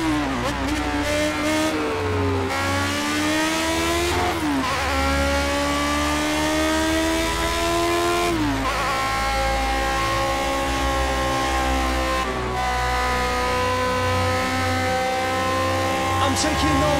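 Lotus 78 Cosworth F1 car in the Project CARS racing game, its engine note loud and continuous, climbing and dropping in pitch with repeated upshifts and downshifts under steady background music or commentary.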